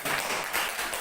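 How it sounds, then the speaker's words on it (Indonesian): A short, dense burst of hand clapping from a group of students in a classroom, steady and fairly faint, with no voices over it. "Tepuk tangan."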